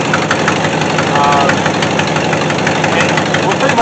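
A 1967 Ford Galaxie engine idles with a leaking exhaust manifold, giving a loud, steady rumble laced with a fast, rhythmic ticking puff close to the engine bay.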